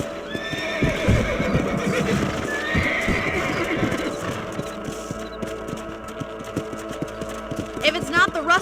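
Horses gallop in the video game Red Dead Redemption with steady, close clip-clop hoofbeats throughout, and a whinny rises near the end.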